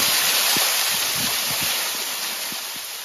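The Villagrís waterfall on Bioko gives off a close, steady, broad rush of falling water, with a few soft low thumps underneath.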